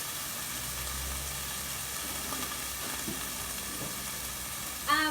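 Spiced chickpeas frying in a pan, a steady quiet sizzle with a faint hiss throughout and a brief clatter at the end.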